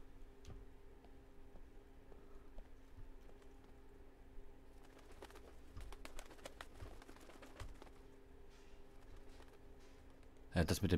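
Pigeons or doves coo softly in the background of the SCUM game world, a faint ambient call under a steady low hum and scattered ticking noises, with talking over it and a louder burst near the end.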